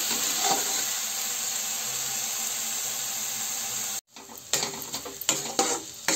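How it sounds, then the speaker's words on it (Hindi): Peas fry in a pan for a desi-style matar nimona, a steady loud sizzle that cuts off abruptly, followed by scraping stirring strokes and clinks against the pan. "उसको भी पाँच से सात मिनट के लिए ऐसे अच्छे से भून लेंगे"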